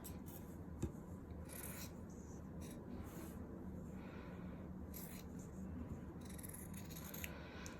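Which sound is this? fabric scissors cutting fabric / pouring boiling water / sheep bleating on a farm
fabric scissors cutting fabric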